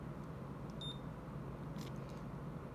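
Conair Infinity Pro curling iron giving a single short, high-pitched electronic beep, faint and brief against a steady background hiss.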